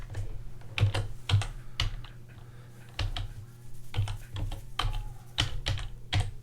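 Steady typing on a computer keyboard while copying and pasting image-selection code for a tile-swapping puzzle game, with irregular clicks and a few louder key strikes up close, and no one talking.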